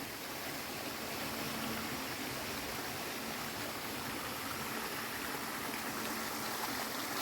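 A river flowing through dense forest on a hiking route near Wu Kau Tang, Hong Kong, gives a steady, even rush of water that stays close and unbroken throughout, with no voices over it.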